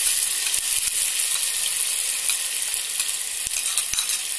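Ginger garlic paste sizzles steadily in hot oil while biryani is being prepared, a loud, continuous frying hiss with a few faint clicks of stirring and no talking.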